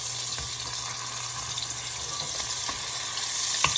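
Tuna steaks sizzle steadily in a buttery, oiled pan just after being flipped, a close, even frying hiss with faint crackles and a small pop near the end, with no talking.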